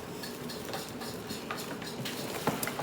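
Tabitha Brown 8-quart air fryer lifted out of its cardboard box, with light scraping, rustling and small clinks of packaging, moderately close and without talk.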